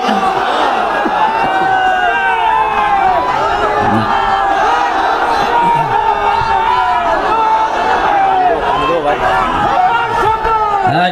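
A large crowd at an Islamic sermon answers a call for takbir, a loud, continuous swell of massed voices chanting and shouting together for several seconds, close and filling the space.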